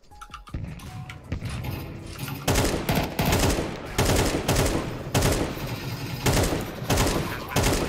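Rapid automatic gunfire in Counter-Strike 2, sustained bursts of fast shots repeating across the clip at close range, with brief gaps between volleys and some faint voice underneath.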